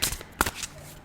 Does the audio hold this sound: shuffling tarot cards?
yes